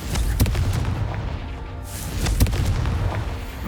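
Fiery Confringo spell blasts in Hogwarts Legacy: two sharp booming impacts about two seconds apart, each bursting over a continuous dense rumble of magical combat, loud and close with no talk.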